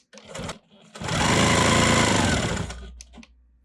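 A Quilt Maker Pro 20 quilting machine runs in a sustained burst of rapid stitching for under two seconds, with quieter mechanical clicks before and after.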